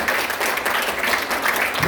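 Church congregation at a vision conference clapping hands fast and steadily, a dense continuous patter filling the room with no pauses.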